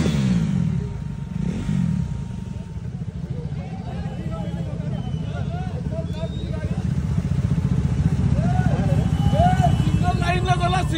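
Motorcycles ride together in a bike rally on a rainy road, engines droning and revving continuously nearby, with a rider talking over the steady engine noise.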